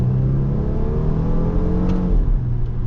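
A 2020 Volvo V60 T6 engine revs and accelerates close by, a steady rising drone with a low rumble underneath.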